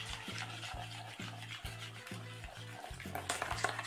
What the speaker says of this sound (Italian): Lo zucchero, la panna, l'olio. E mescoliamo.